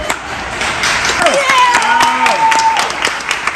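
A burst of clapping from a group of students at an HBCU after someone drops a dish, fairly dense and lively, with chatter and a high ringing tone running underneath.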